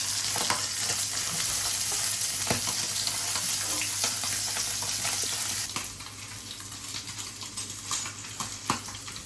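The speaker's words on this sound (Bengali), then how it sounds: "আমার মাছ ভাজা হয়ে গিয়েছে" Golsa fish sizzling steadily in hot oil in a pan, a continuous loud fry with scattered crackles and pops, easing slightly in intensity partway through.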